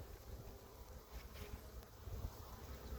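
Honey bees buzz in a steady, dense drone around a comb frame lifted from an open hive outdoors, with light wind rustling over the microphone and no talking.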